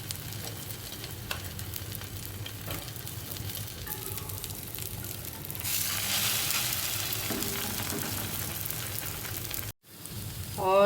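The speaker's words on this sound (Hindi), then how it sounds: "इस तरह हमने तवे पे डाल दें।" An egg-dipped bread slice fries on a tawa griddle with a constant close sizzle that swells louder midway, then a brief drop-out before the frying resumes.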